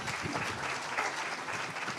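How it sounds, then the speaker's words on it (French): Audience at a round table on local energy communities applauding at the session's close, dense steady clapping filling the room throughout. "on peut les applaudir"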